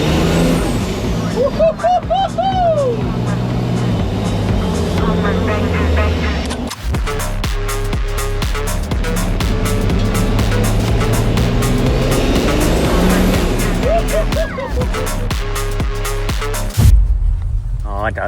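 A Chevy 4x4 truck under a boosted launch, its engine roaring loud and close with rising revs, rattling and clattering mechanical noise, and short bursts of hissing throughout.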